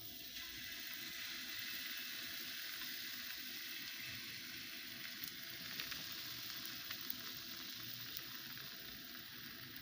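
Pancake batter sizzling in a hot pan, a steady, fairly quiet hiss and crackle of frying that holds evenly throughout with no talking.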